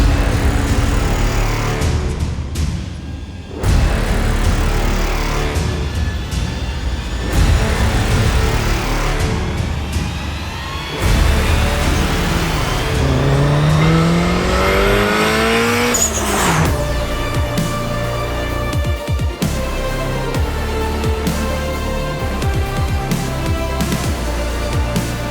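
A 2013 Subaru WRX STI fitted with a big turbo and running on E85 is driven hard: the engine revs up and down through the gears with loud rising pulls, a long climbing whine and brief tire squeal.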